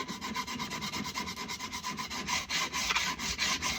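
A metal file scrapes old finish off a new hickory axe handle in quick, rhythmic back-and-forth strokes, a close, dry rasping with no voices.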